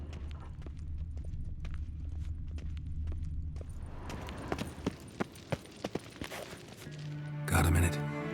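Horse hooves clip-clop in The Witcher 3, starting as a faint, slow walk and growing into louder, sharper steps. A brief louder burst of sound comes at the very end.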